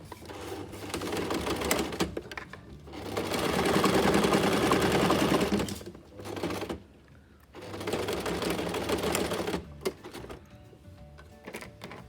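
A sewing machine stitches the seams of a pleated fabric face mask in bursts of rapid, even mechanical chatter, pausing briefly between runs; close and fairly quiet, with no talk.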